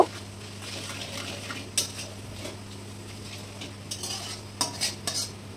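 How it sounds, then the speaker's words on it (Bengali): Whole cumin seeds stirred in hot oil, a faint, soft sizzle beneath repeated light scrapes and clinks of a spoon against the pan, with a steady low hum throughout. "এবার আমি 1 চামচ গোটা জিরে দিয়ে দিলাম তেলের মধ্যে। এবার হালকা একটু নেড়ে নেব।"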